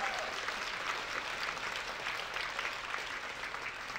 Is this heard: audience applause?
yes